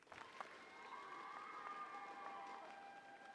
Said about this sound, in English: who brought her own cheering section